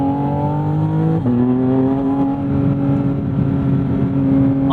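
A Porsche 718 Spyder RS engine pulls hard from inside the cabin, climbing steadily and dropping sharply at a quick upshift before rising again, a loud, smooth sustained tone without talk.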